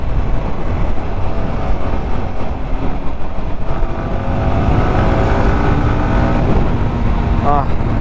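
Yamaha R15 motorcycle accelerating on a road through plantations near Dharmasthala, a steady loud engine drone with wind rush and faint rising revs, heard continuously from the rider's position.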